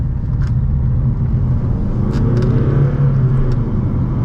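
Inside a 2015 Mercedes A200 W176 with a 156 HP engine, accelerating hard in sport mode: a deep, steady engine rumble and drone fills the cabin with a low, continuous roar.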